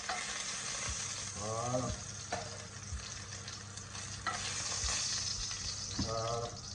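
Skinless salmon fillets sizzle steadily in a hot pan, a constant frying hiss broken by a few clinks and scrapes, with a brief word spoken near the end.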